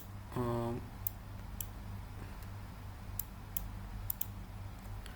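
Computer keyboard presses, including the Alt key, come as a handful of faint, sharp clicks scattered across a quiet room-tone background.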